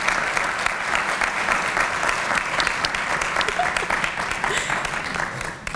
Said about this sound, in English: Can everybody join me in giving them a round of applause?